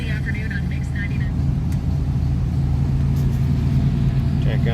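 A 1965 Ford Mustang Fastback engine idles steadily with a low, even rumble throughout, while a car stereo plays faintly and someone talks over it.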